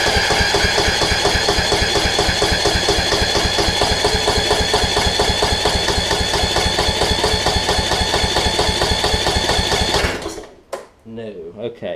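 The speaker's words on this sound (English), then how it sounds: "let's see if I can get it to crank up here" Kohler Courage engine on a Toro Z5000 zero-turn mower, suspected tight intake valve, cranking loud and steady with a rapid rhythmic chug for about ten seconds, then cutting off abruptly into quiet.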